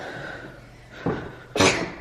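A young child sneezes twice in a home on a birthday morning, a smaller sneeze followed by a louder, sharper one, close and clear over quiet room noise.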